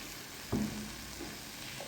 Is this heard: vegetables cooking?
yes